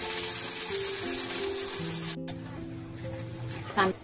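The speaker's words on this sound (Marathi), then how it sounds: "कांदा चांगला भाजून घेऊया" Onion frying in a pan for a Maharashtrian vegetable dish, a steady close sizzle with faint stirring and a brief clatter near the end.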